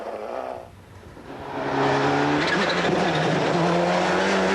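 Rally car driven flat out toward the finish on a forest stage, its engine rising to a loud sustained high-revving roar after a brief dip.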